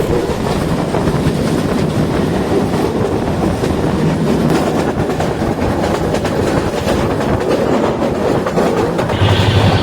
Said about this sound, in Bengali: দেখতে পাচ্ছেন সামনে দিয়ে একটা ট্রেন চলে যাচ্ছে